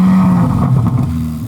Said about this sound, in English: Let's see what the Corvette sounds like, shall we?